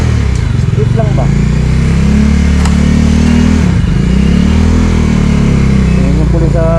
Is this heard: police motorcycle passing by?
yes